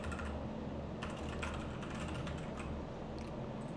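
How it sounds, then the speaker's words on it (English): Someone types on a computer keyboard in a quiet room, a steady patter of close, light key clicks with a few sharper strokes. "and I'll type,"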